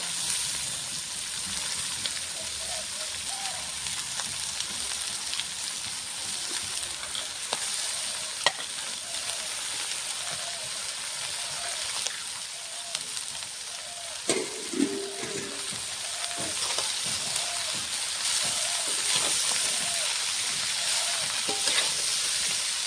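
Shredded cabbage fried in a pan with already fried potato, giving a continuous soft sizzle with occasional spatula scrapes and knocks, near and moderate in level; a voice is faintly present at times.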